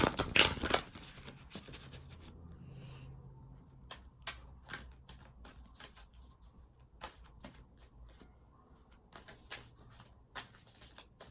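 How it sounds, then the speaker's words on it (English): Tarot cards are shuffled close up, a brisk riffle opening into soft, scattered flicks and slides of the deck that fade to light tapping. "I'm just gonna pull a couple more cards for you guys and get you guys out of here."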